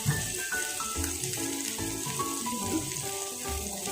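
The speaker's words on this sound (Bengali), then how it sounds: "এবার এই মশলাটাকে খুব ভালো করে সমানে নেড়ে চেড়ে ভাজা ভাজা করে নিতে হবে।" A spice mixture being stirred and fried in a pan gives a soft, continuous sizzle that sits beneath background music.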